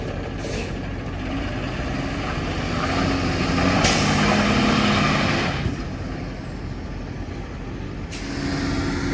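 A Gator utility vehicle stuck with no traction, engine droning loudly as its wheels spin, in wind and rain; steady broadband roar that swells in the middle with brief gusty bursts.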